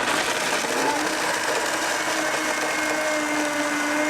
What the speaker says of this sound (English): All we're going to do is put this on the blender